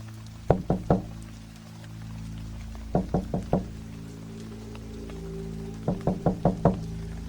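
A delivery driver carrying pizzas raps on a house's front door in three separate bursts of sharp knocks, first three, then four, then five, each group separated by a few seconds of low steady hum.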